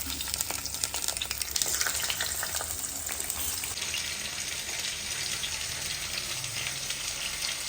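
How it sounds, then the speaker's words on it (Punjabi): Chopped raw green mango and tomatoes fry in oil for a tangy chutney, giving a steady crackling sizzle throughout, busiest and brightest in the first few seconds, with no voices. "ਇਹ ਲੋਕੀ ਆਪਣਾ ਫਰਾਈ ਹੋ ਰਹੇ ਆ ਟਮਾਟਰ ਤੇ ਅੰਬੀਆਂ"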